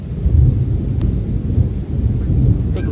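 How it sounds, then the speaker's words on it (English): Thunder rumbles heavily and continuously during a rainstorm, a loud, deep roll with rain underneath. "That's a lot of thunder."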